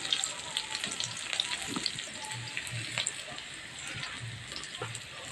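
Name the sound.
onions frying in a pan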